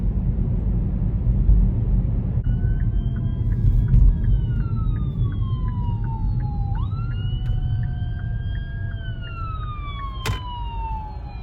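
A fire engine's siren wails and sweeps in pitch as it passes along a downtown street, rising and then falling away, heard over the steady rumble of a vehicle cabin with a couple of sharp horn blasts.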